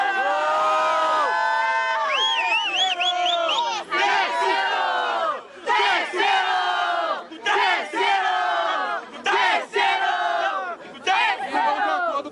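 A crowd at a Brazilian rap battle final shouts and cheers loudly in repeated surging waves of massed yelling, each burst breaking off briefly before the next.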